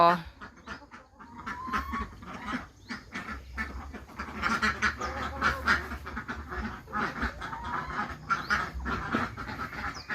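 Ducks quack repeatedly at close range, harsh nasal calls coming in bursts over a low background rumble.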